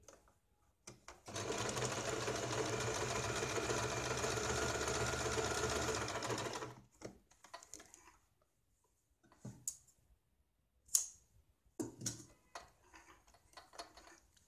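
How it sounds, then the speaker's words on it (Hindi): A sewing machine double-stitches a blouse sleeve, running in one steady, even whir for about five seconds, then falls silent before scattered light clicks and handling taps follow. "डबल सिलाई लगानी है।"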